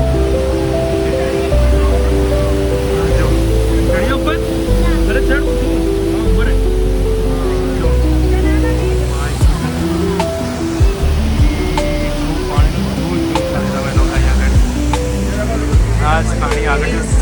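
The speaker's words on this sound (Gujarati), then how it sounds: "ધોધનો અવાજ તમને લોકો કદાચ આવી રહ્યો છે" The Dhuandhar waterfall on the Narmada at Bhedaghat, Madhya Pradesh, gives off a constant loud rushing roar, while a person talks over it for most of the stretch.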